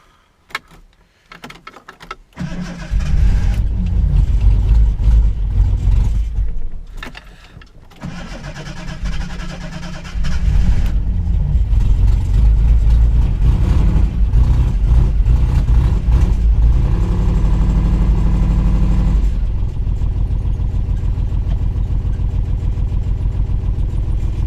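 A Mk1 Ford Granada engine cranks with a few stuttering attempts, then catches and roars to a loud, steady run that settles into a rumbling idle, close and without talk.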